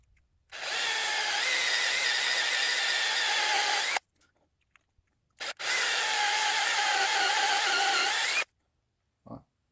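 Power drill boring into metal with oil on the bit, two sustained loud bursts of whining grind separated by a pause, then a brief final touch, with no talking.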